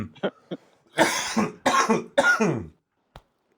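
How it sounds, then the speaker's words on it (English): A person coughs repeatedly at close range: a few short, sharp hacks, then three heavier chesty coughing bursts in quick succession, followed by one last brief cough after a pause. "I'm just trying not to cough in your ear"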